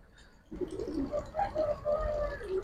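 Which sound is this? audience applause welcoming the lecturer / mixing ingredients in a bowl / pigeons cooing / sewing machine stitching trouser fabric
pigeons cooing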